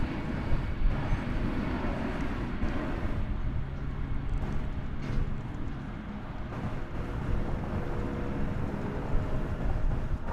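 An airplane lifts off the runway at DFW Airport, its engines making a steady, loud, broadband roar that holds throughout without any talk.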